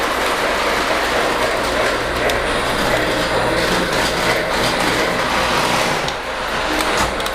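A small Lionel model train rumbles steadily up a grade toward an elevated track, with faint clicking wheels and a continuous motor hum, fairly close and unbroken throughout.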